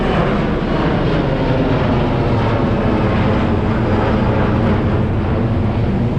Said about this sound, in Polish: Właśnie za mną wystartował prywatny odrzutowiec